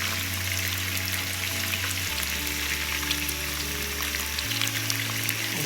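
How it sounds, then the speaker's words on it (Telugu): Sliced onions frying in oil, giving a steady, dense sizzle and crackle close by, with a low, even hum running underneath and no voices. "ఉల్లిపాయలు గోల్డెన్ బ్రౌన్ కలర్ వచ్చే వరకు వీటిని ఫ్రై చేసుకోవాలి."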